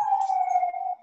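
A brief emergency vehicle siren sounds outside, a single steady wailing tone heard at moderate distance for about a second before cutting off.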